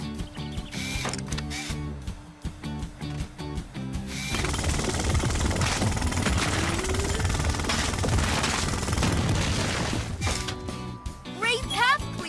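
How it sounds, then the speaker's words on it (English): A jackhammer rattles loudly and continuously, breaking a boulder in the PAW Patrol On a Roll video game, after a stretch of bouncy game music with rhythmic beats; the hammering runs for several seconds before music chimes return. "He can use his jackhammer to break the boulder into smaller pieces."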